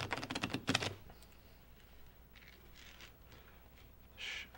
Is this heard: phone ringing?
no